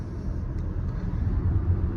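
A Hyundai i20 N Line car drives along, its engine and road noise forming a steady low rumble with a slight swell as it gains speed, heard from inside the cabin.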